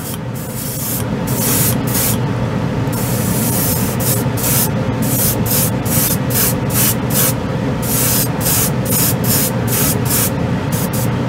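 An airbrush sprays white acrylic paint for scale models in repeated short bursts, each a sharp hiss starting and stopping in quick succession, close and loud over a steady compressor drone.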